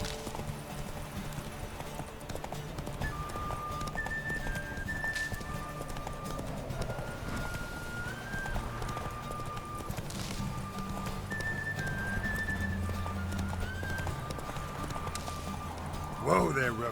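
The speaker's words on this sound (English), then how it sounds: "Whoa there, Roach." Hoofbeats of a galloping horse during a horse race in The Witcher 3, a steady rhythmic clip-clop under game music and spoken dialogue, with occasional whinnies.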